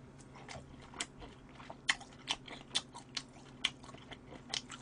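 Smoked duck breast being bitten and chewed close to the mic, a steady run of sharp crunchy bites with soft chewing between them and no talking.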